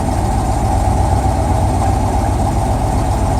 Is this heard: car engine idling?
yes